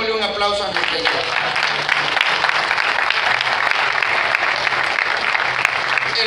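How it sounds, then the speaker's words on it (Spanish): Congregation applauding inside a Catholic parish church during an Ash Wednesday service, a dense, steady wash of clapping from many hands filling the room, with a voice speaking briefly at the start. "démosle un aplauso a nuestra."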